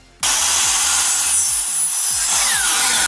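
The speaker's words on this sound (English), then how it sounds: "we are marking this right here to cut off this piece of PVC" A piece of PVC pipe is cut with a saw in quick, steady back-and-forth strokes, loud and close, after a brief quiet start.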